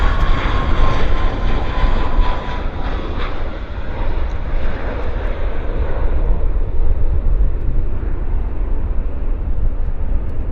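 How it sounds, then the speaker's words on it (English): Passenger airliner taking off at Vancouver Airport, a loud, steady engine roar with deep rumble that slowly fades as the aircraft climbs away. "Decent takeoff though, decent, very decent."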